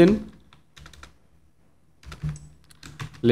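A few quick bursts of computer keyboard keystrokes sound close by, broken by short pauses, with someone speaking over parts of the typing.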